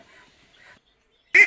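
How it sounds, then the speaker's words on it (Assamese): A duckling gives a single short, clear quack near the end after faint soft calls earlier, close by and otherwise quiet. "এইকেইটা মোৰ হাঁহ পোৱালিকেইটা।"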